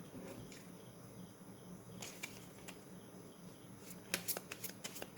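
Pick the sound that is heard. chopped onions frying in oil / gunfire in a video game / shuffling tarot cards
shuffling tarot cards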